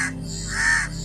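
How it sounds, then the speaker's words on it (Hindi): A crow gives two harsh, loud caws close by, the second drawn out, over a steady low background hum. "देवराज इंद्र के पुत्र जयंत ने कौवे का रूप धारण कर भगवान राम की शक्ति को परखना चाहा"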